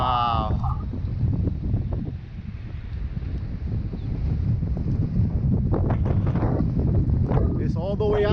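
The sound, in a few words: strong wind blowing past a flying micro drone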